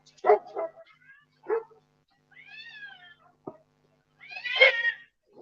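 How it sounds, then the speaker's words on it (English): Cats outside at night yowling and meowing in short bursts, some rising into long wails, mixed with a few sharp dog-like yips, mid-distance against a quiet background. "Yeah, the cats are going crazy."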